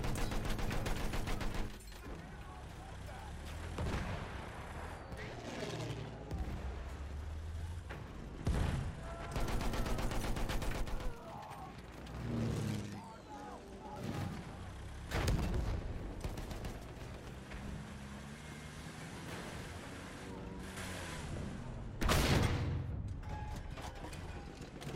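Enemy machine gun fire in Battlefield 1 on the Sinai Desert map, a Conquest match, with loud repeated bursts and heavy impacts across the clip amid other battlefield gunfire and explosions.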